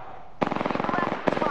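Rapid automatic gunfire in the Apex Legends video game, two close, loud bursts of fast rattling shots separated by a short gap.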